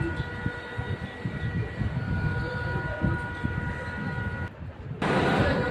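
Passenger train in motion on a rail journey: a continuous rumbling roll with faint tonal whine and clatter, heard from nearby and steady throughout, briefly dipping near the end before resuming louder.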